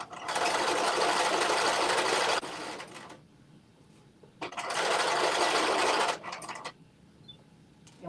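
A sewing machine stitches a jumpsuit pant leg seam in two loud, close bursts of rapid whirring, each about two seconds long, separated by a quiet pause.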